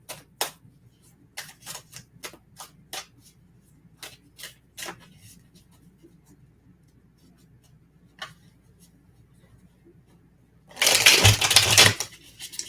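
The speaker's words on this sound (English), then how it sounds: "Let me shuffle again." Tarot cards are shuffled in a burst of dense riffling about a second long, following a stretch of sparse, faint ticks and taps from handling the deck.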